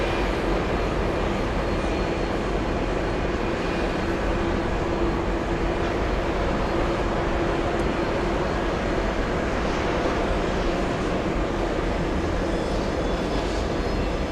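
A Delta Airlines Airbus A321neo jet at JFK Airport gives a loud, continuous engine roar, a broad steady rumble with a faint whine and no rise or fade.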